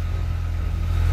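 A car engine idles steadily with a deep, continuous low rumble, close and unbroken, with no voices over it.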